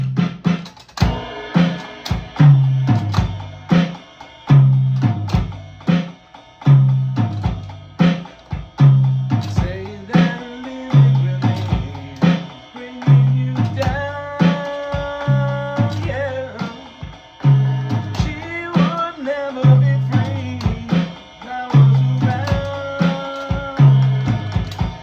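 Drum kit playing a basic practice groove, bass drum on the beat with snare and toms, a steady repeating rhythm of punchy hits ringing out alone for about twenty-five seconds.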